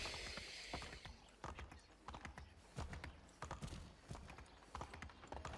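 Horse hooves clop steadily and close as a horse runs in the colonial-era video game Assassin's Creed III, a busy rhythmic beat over dense game ambience with no talk.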